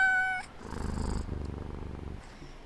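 A cat purrs in the video game We Harvest Shadows, a soft, low, rhythmic rumble that pulses steadily and close, following a brief high electronic tone at the start; no one speaks over it.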